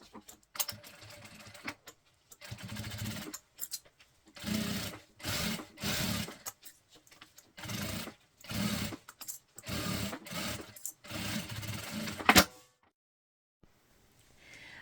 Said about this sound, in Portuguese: Venho aqui com o meu canal de zíper, faço o posicionamento bem alinhado, coloco a presilha e passo uma costura.